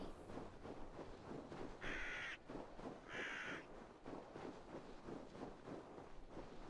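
Crows in Assassin's Creed Valhalla give two harsh caws in quick succession over a soft, steady outdoor ambience, moderately close and alone without talk.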